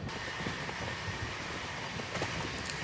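Low, steady rumble of trains and station machinery at Delhi Nizamuddin railway station, a continuous distant wash of rail noise without clear announcements or voices.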